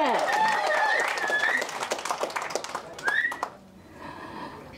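Audience clapping at a Tamil film trailer launch event, a dense spatter of hand claps with cheering and whoops over it, loud and close for most of the stretch before thinning into scattered claps near the end.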